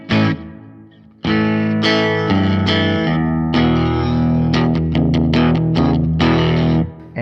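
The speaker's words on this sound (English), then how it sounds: "the 65 Deluxe has a bit of grit and distortion built in" Electric guitar played through a Fender Mustang Micro set to the '65 Deluxe amp model, with a little built-in grit and distortion. It rings out in a loud run of picked notes and chords, sustained and slightly reverberant, with no talking.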